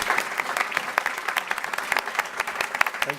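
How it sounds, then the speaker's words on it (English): An audience at an urban growth talk by Centre for Urban Studies and TU Delft applauding its speakers, with dense, steady clapping throughout and faint crowd murmur underneath. "A round of applause of our first three speakers."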